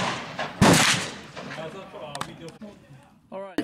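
A .45 ACP pistol fires 230-grain round-ball lead loads over 4.1 grains of Red Dot powder at an outdoor range: one loud, close report rings out, then a few sharper cracks and clicks, with a voice speaking near the end.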